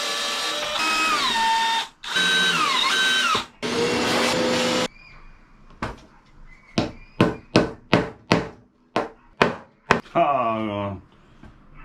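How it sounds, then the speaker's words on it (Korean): A drill bores a 7mm hole in the chassis of a homemade Marshall JTM45 amplifier, giving whining bursts that shift in pitch, then a quick run of sharp knocks and a final short whirring burst. "제가 가공 실력이 그렇게 좋지 않다 보니까 7mm로 뚫겠습니다."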